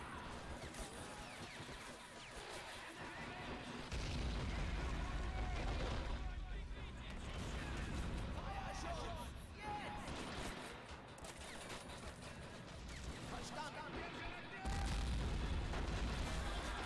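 Grenade blasts and artillery fire in the multiplayer war game Men of War: Assault Squad 2, with heavy booming explosions and crashes at around four and fifteen seconds among continuous battle noise, fairly quiet overall.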